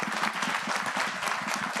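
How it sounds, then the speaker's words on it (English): Sustained audience applause for state legislators at a legislative breakfast on Black maternal health, a dense, steady wash of many hands clapping close by with no pauses. "a big round of applause for our legislators"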